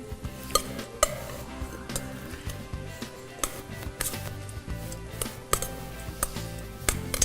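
Shredded cabbage and radish tossed in olive oil in a bowl, giving irregular clinks and scrapes of utensils against dishware, close and intermittent, without speech.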